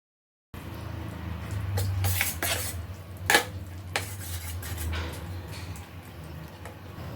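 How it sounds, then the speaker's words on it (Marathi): A spoon stirs an egg and grated potato mixture in a bowl, producing scraping and clinking strokes against the sides, with one sharper knock partway through, set against low kitchen background noise. "परत एकदा मिश्रण व्यवस्थित ढवळून घ्यायचं आहे"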